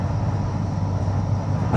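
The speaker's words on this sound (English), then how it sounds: "Still on the tram at the moment." Riding a Blackpool tram in the evening, a steady low rumbling drone of the moving car with faint rattle underneath, brief and continuous without talk.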